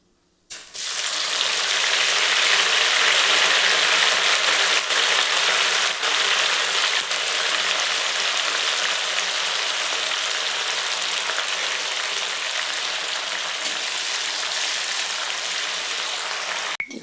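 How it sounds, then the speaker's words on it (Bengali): Mustard seeds crackle and pop in hot oil with curry leaves, a loud, dense, continuous spluttering sizzle that starts abruptly and holds steady close by for the whole stretch. "দেখুন সর্ষেটা ফাটতে থাকবে"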